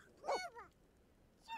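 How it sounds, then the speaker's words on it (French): Pet dog in The Sims 4 video game giving a couple of short, quiet yips or whimpers, one early and one at the end, with a stretch of near silence between. "Voilà ce que ça donne quand elle joue avec le chien."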